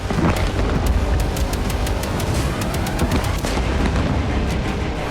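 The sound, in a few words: explosion from a Ukrainian drone attack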